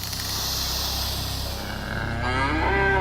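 Cows on a farm moo in long, low drawn-out calls, close and fairly loud, one bellow rising toward the end over a steady ambient background.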